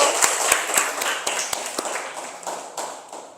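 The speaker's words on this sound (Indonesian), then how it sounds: "Ayo kita beri tepuk tangan untuk kelompok 1." Classroom applause for a student group after a university informatics presentation, a handful of sharp, distinct claps at first that blur into a thinning patter as it fades out.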